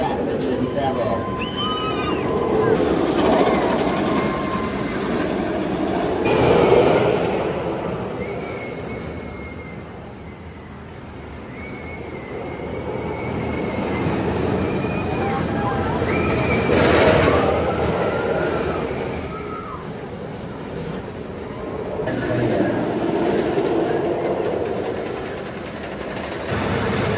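The Jersey Devil roller coaster train rolls along its steel track at an amusement park, with a swelling and fading rumble, high wheel squeals and screams, and people talking throughout.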